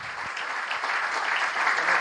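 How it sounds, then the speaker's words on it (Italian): A large audience at the RBR season presentation claps for Michela, a short burst of dense, even applause that swells slightly toward the end, with no talking on top. "E poi vorrei fare un applauso"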